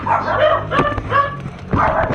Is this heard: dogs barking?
yes